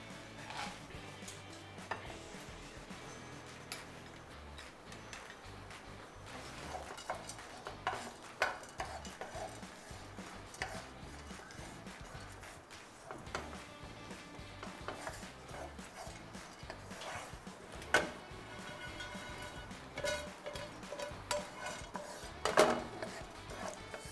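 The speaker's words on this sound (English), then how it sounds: "Let's start roasting the nuts, kidogo kidogo, little bit. Some almonds and some pistachios." Almonds and pistachios roasting in a pan over a low flame, with steady scraping and stirring, scattered light clinks of utensil against metal, and a faint rattle of nuts moving throughout.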